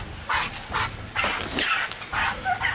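A police dog barks in several sharp, close bursts, about five rapid barks and yips spaced across a few seconds, loud and alone without talk.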